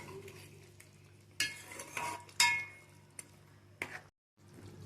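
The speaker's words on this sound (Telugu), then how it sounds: "బాగా కలుపుకోండి." A spoon stirs natukodi (country chicken) curry in a metal pan, with several sharp scraping clangs and clinks against the pan over a faint background hum.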